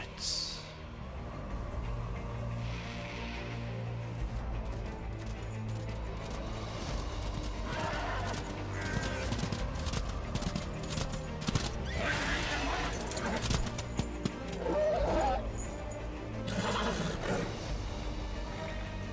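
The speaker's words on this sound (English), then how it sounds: "This is Death on his horse already." Death's horse in the video game Darksiders 2 neighs and gallops amid a dense game soundtrack, with a whinny at the start and clip-clopping hoofbeats blending into music and ambient effects.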